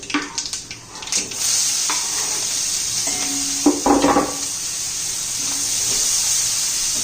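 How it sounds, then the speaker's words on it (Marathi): Chopped onions sautéing in a pan for Rajasthani-style methi bhaji, giving a steady sizzle with occasional stirring scrapes and spatula clatter. "कांदा चांगलं परतून घेऊया आपण ट्रान्सफरन होईल आता"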